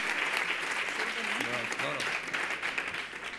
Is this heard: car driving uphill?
no